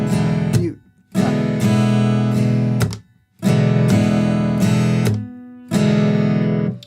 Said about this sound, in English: I'm hitting down on the string and palm muting.